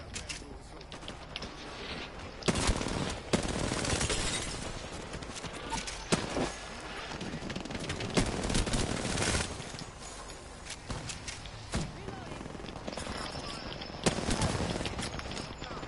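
Gunfire rattles through an Apex Legends firefight in repeated bursts and single shots, some close and loud, others further off, with a player's voice heard at times over the shooting.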